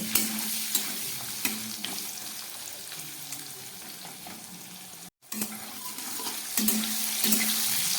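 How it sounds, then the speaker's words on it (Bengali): Thinly sliced potatoes seasoned with salt and turmeric sizzle steadily in hot oil. Occasional stirring clatters sound through the frying, and there is a brief break partway through. "নুন হলুদ দিয়ে মাছটা আলুটাকে ভালো করে ভেজে নিচ্ছি"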